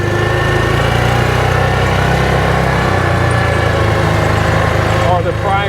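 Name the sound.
2021 Axis 500 engine grinding noise on deceleration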